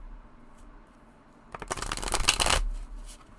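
Regular-size tarot cards are riffle-shuffled up close: quiet handling at first, then a crisp, fluttering burst of about a second that ends with the cards snapping together, with no talking.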